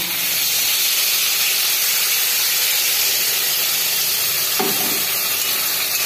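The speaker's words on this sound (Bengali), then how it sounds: "সামান্য লঙ্কা গুঁড়ো। সামান্য জল দিয়ে দেব।" Water is splashed into a hot pan of turmeric, cumin and chilli powder for a hilsa curry, giving a loud, constant steamy hiss with a short sharp burst of sizzle near the end.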